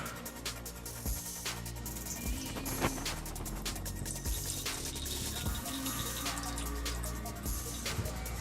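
Power steering fluid drains from a disconnected line on a Honda Prelude, a faint continuous trickling and splashing with scattered drips and light metallic knocks; no talking.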